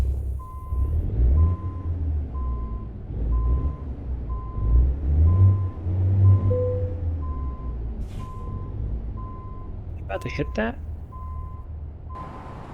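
Reversing beeps from an International 9900i semi truck backing in during American Truck Simulator, steady evenly spaced beeping over engine rumble and a hiss of air brakes near the end, with a person talking briefly.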